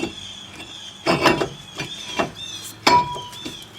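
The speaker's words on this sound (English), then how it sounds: "Now we're going to put the rotor back on." A brake rotor slides back onto the front hub of a 2000 Chrysler 300M, giving a few close metallic clunks and scrapes with short gaps between them and no talking.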